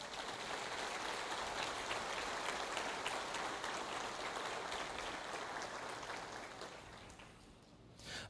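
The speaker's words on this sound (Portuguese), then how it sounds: "Vamos aplaudir ao Senhor por uma atitude dessa?" Church congregation applauding during a Sunday family congress service, a dense, steady wash of clapping that holds for several seconds and then thins and fades toward the end.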